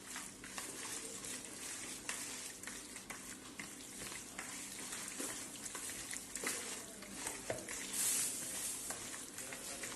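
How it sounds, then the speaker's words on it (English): Chicken haleem is mixed with chopped mint and coriander, a soft continuous wet stirring and sizzling texture, close and fairly even throughout with small scrapes. "Then chopped mint, little bit chopped mint, little bit chopped coriander. Then we'll mix it."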